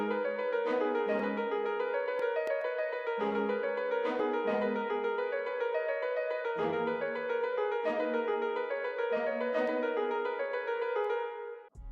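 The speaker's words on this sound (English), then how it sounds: "I went into X-Band again and I got this spiccato up strings preset" Spiccato strings preset from X-Band, played as a short bouncing melody over piano chords in a hip-hop beat made in FL Studio, steady, up front and continuous with no voices.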